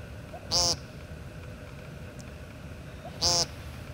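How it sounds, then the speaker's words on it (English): Blue jay giving two short, bright, bell-like calls a few seconds apart, resembling a phone notification chime, heard over faint background noise. "I just found out that blue jays sound like phone notifications"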